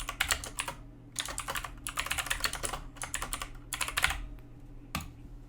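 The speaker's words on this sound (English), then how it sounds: "I'm sorry for the extremely clicky keyboard." Rapid bursts of crisp clacks from an extremely clicky computer keyboard, typed in quick clusters with short pauses between them, close up and steady.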